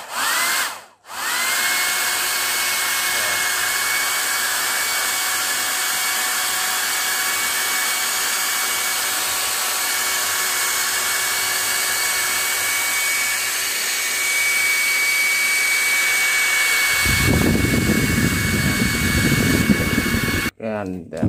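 A small electric jet engine motor spins up and holds a steady, piercing high-speed whine for most of the run. Near the end it gives way to a short burst of broadband rushing noise before cutting off.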